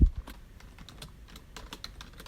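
Someone types a commit message on a computer keyboard in a quick, uneven run of close, light key clicks with no talking.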